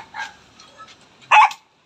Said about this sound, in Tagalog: Yung asong ingay.